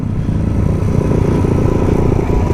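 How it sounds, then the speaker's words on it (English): A motorcycle engine held hard against its rev limiter on a ride at Wynoochee Dam: a loud, close, steady buzzing roar with a rapid stuttering pulse throughout. "She hit rev limiter."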